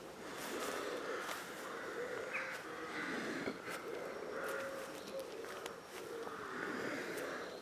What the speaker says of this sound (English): You can hear all the crows around.